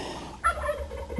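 An outdoor bird gobbles, turkey-like, in one short rough call over a steady background rumble, fairly close and clear.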